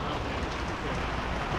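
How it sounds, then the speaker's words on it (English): Rain falls during practice day at the Enduro World Series mountain bike race in Loudenvielle, making a brief, steady, close hiss with no voices. "The rains are coming down."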